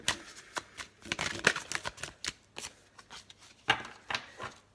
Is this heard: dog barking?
no